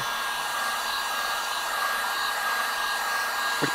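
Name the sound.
heat gun heating Ford Sync 3 screen frame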